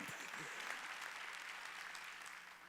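A church congregation at a Korean Wednesday worship service breaks into sustained applause, a dense, steady roar of many hands that fades slightly toward the end, with a preacher's voice faintly underneath.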